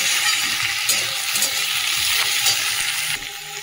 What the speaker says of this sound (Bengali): এবার পেঁয়াজ আলুটা একটুখানি ভেজে নিলাম